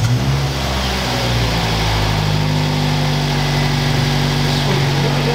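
A car engine idling with no exhaust back box fitted, a loud, steady, raw low rumble that runs unbroken and close up, with a faint rise in revs near the end.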